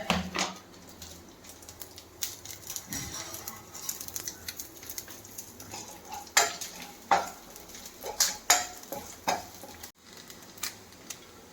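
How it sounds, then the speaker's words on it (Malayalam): Soft sizzling of coconut pieces frying in ghee runs beneath repeated clinks and scrapes of a spoon stirring against metal, close by and without speech. "നെയ്യ് ചൂടായിട്ട് നമുക്ക് ഈ തേങ്ങാക്കൊത്തൊന്ന് അതിൽ വറുത്തെടുക്കണം."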